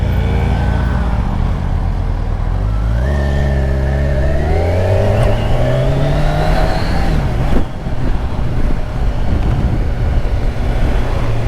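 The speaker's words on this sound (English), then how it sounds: "So that buttery smooth inline 4 has just been an absolute dream for this job." A Kawasaki Ninja 1000SX inline-four engine revs up smoothly through the gears, loud and close, its pitch rising steadily under acceleration with a brief dip at a shift before it pulls on with wind noise.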